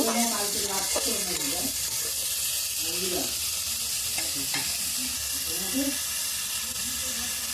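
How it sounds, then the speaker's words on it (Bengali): Onions frying in oil in a village-style kitchen, a continuous close sizzle broken by occasional stirring scrapes, while a voice talks over the cooking. "এবার ওর মধ্যে আমি পেঁয়াজটা দিয়ে দিলাম দিয়ে ভালো করে ভেজে নেব পেঁয়াজটাকে"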